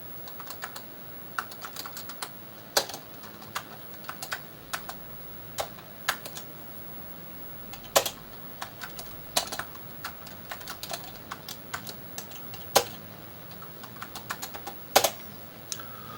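Keys clatter on an 8-bit home computer keyboard with a modest 28K of memory, in irregular bursts of sharp clicks and occasional louder thumps, alone and close up.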